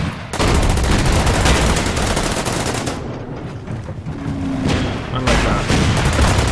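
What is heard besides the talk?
gunfire in video game Order of Battle Winter War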